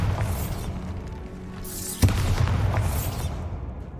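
The Bombarda blast spell in Hogwarts Legacy bursts as one sharp boom that rings out over a steady low rumble, with whooshing swells before and after, loud and alone.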